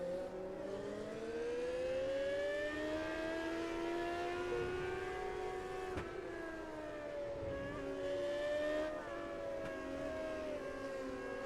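Sprint cars race in a video game, several high-pitched engines whining and rising and falling in pitch together, loud and continuous with no talking.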